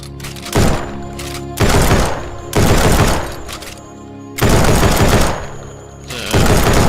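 Bursts of automatic fire from a SCAR-like rifle in the indie survival game No One Survived, in four loud sustained volleys separated by short pauses.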